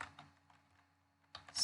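Someone types on a computer keyboard into a spreadsheet cell, a few quiet, close keystrokes in short bursts with a pause between them.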